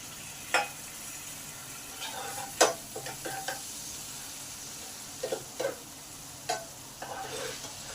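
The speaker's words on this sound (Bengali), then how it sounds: "এটাও হাই হিটে ভালোভাবে কষে নেব যাতে মশলার কাঁচা গন্ধগুলো দূর হয়" Spice paste and dried mango (amsi) are stir-fried over high heat in a pan, a low steady sizzle punctuated by scattered scrapes and clinks of a spatula stirring.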